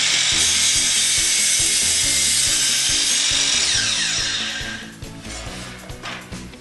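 A miter saw makes a 45-degree cut across a piece of wood, its loud, continuous whirring cut lasting about four seconds before the blade spins down and fades.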